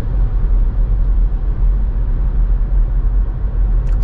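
Road noise inside a car moving at 90 km/h on smooth asphalt, a steady low rumble and hum with a little outside sound, constant and fairly loud.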